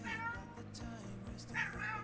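A pet cat meowing indoors, a few close, clear, drawn-out meows with no one speaking.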